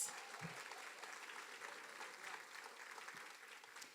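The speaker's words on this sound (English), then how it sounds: "those efforts are worthy of a big round of applause" Applause from an audience at a leadership summit fireside chat, a steady crackle of clapping that holds evenly for several seconds without voices.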